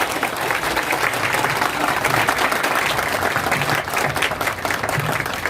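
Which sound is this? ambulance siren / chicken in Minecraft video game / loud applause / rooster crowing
loud applause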